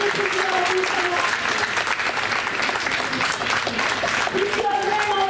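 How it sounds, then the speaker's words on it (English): Audience at a school board meeting applauds loudly and continuously, a dense wash of clapping with a few voices calling out over it. "So I think a really big round of applause."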